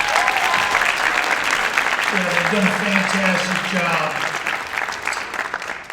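A crowd at a summit conclusion applauds steadily for several seconds while someone speaks over the clapping.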